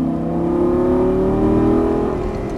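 A Lamborghini engine revs hard under throttle on a race track, a loud, sustained, steadily climbing whine-and-growl heard close up from inside the car.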